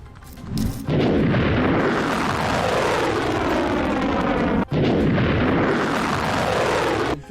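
A loud, sustained rumbling roar from distant explosions of a ballistic missile intercepted in the air over Tel Aviv, broken by one sharp boom partway through, with no talking.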